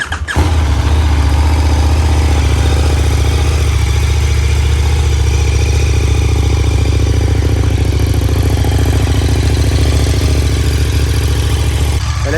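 A stock motorcycle engine idles steadily and loudly close up, a constant low rumble that stays even from start to finish with no revving.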